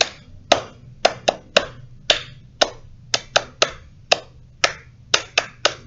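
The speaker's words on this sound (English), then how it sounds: "Now we're going to remove all the letters, just clapping now" Hands clapping the missing letters of the Bingo song at a children's library storytime, about fifteen crisp claps in uneven groups of quick pairs and singles, close and clear with no singing.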